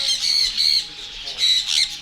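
Flamingos squawk at close range in a bird park, a few harsh nasal honking calls in quick bursts with brief pauses between them.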